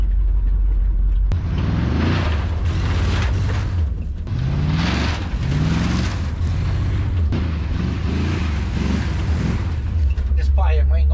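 A 1964 International pickup truck with a missing door climbs a hill, its engine roaring loudly and steadily with revving surges as the tires spin, wind buffeting the microphone and a voice talking over it.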